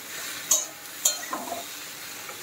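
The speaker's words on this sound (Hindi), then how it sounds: "अब इस टाइम पे मैं इसमें ये मशरूम डाल दूंगी। अब हम इसे पूरे मसालों के साथ मिक्स कर लेंगे।" Mushrooms being stirred with spices in a pan for a mushroom sabzi, with a steady low sizzle and two sharp utensil scrapes followed by softer stirring taps.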